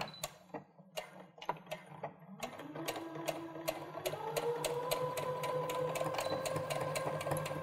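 A sewing machine stitches a 3/8 inch seam allowance on garment fabric, starting with slow, separate clicks and then settling into a steady, continuous run of fast stitching with a rising motor whir.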